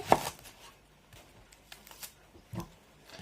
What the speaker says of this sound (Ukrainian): нарізаємо цибулинку